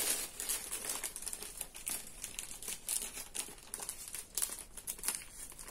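Plastic packaging of a baby changing pad from a crib set being crinkled and cut open with scissors, a steady close rustle and crackle of wrapping throughout with no talk.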